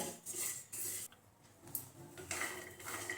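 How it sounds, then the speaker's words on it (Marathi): Peanuts being dry-roasted and stirred in a pan over low heat for til-gud shengdana ladoo, giving a steady scraping, rasping rattle in bursts with brief pauses, close and moderately loud, with no talking. "शेंगदाणे आपण असेच भाजून घेऊया"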